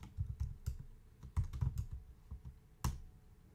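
Keys on a computer keyboard are tapped in a quiet, close series of separate clicks, some clustered quickly and others spaced apart, with no voice over them.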